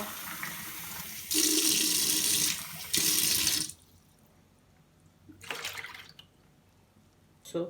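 Water running from a tap and poured into a bowl for Turkish poğaça pastry dough, two loud steady bursts of splashing followed by a quieter pour and a few faint trickles, with no talk.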